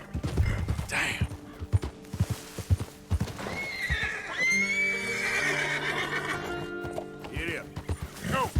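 Rhythmic clip-clop of hooves with a long, loud horse whinny in the middle, and a voice speaking briefly over the trotting, in the video game Red Dead Redemption 2.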